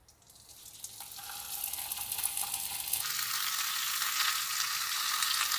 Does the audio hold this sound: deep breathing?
no